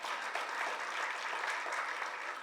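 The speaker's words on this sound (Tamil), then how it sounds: "நல்ல ஒரு கைத்தட்டல் கொடுங்க." An audience at a Tamil tribute gathering for actress Manorama claps warmly, producing dense, even applause that sounds somewhat distant and carries on steadily without talking.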